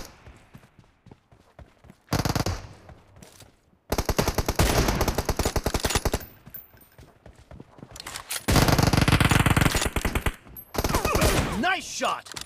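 Sniper rifle shots from an M24 in PUBG Mobile ring out in loud, sharp bursts with sudden gaps of near quiet between them, the rattling reports filling most of the span.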